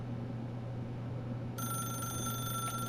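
Telephone ringing in the video game The Stanley Parable, a bright electronic ring that starts partway through over a low steady hum, fairly quiet.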